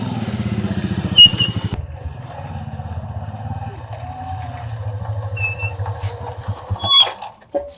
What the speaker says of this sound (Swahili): Mbona nasikia pikipiki mbona nasikia na yeye?